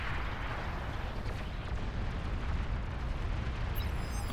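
Bombing-run explosions in the real-time strategy game Beyond All Reason: a continuous, loud, rumbling roar of overlapping blasts with no gaps, heavy low-end rumble throughout.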